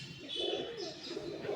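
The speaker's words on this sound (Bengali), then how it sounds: "বন্ধ দুমের পায়রা।" Fancy pigeons, including closed-tail birds from a lot of Pakistani, Madrasi and Giribaz breeds, give low, rolling coos nearby. The faint, continuous cooing carries on with no talk.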